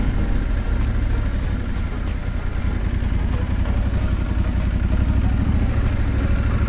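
A small motorcycle revs hard while riding a wheelie in a town street, its buzzing engine loud and continuous with a rattly, steady drone throughout.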